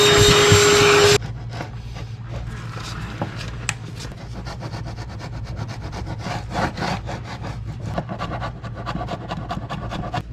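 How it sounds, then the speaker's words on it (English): A vacuum cleaner draws debris out of a teak deck seam during plank replacement, a steady close whine with a loud burst at the start, then a rough, uneven scraping rumble as the nozzle works along the wood. "I like to use a vacuum cleaner"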